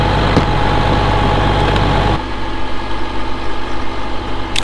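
Loud, close idle of a farm tractor engine used for spraying, a steady low diesel rumble that drops to a softer, pulsing throb partway through.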